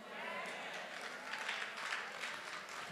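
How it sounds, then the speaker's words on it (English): A congregation clapping during a Sunday church service in a large hall, a dense, even patter of many hands that holds steady for a few seconds at moderate distance. "Big church like this, 25 people clapped."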